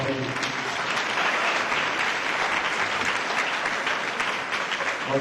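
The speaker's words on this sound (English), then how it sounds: "Would you please give her a welcome applause?" A school audience at Eisenhower High School in Rialto, California gives the principal a welcoming round of applause, sustained dense clapping from a large crowd lasting several seconds, with no one speaking over it.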